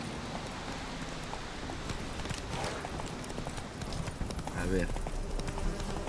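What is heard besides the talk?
horse hooves clip-clopping, from a video game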